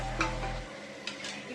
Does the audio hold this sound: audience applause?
no